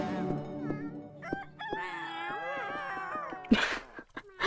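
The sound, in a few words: cat noises in the video game Cat Cafe Manager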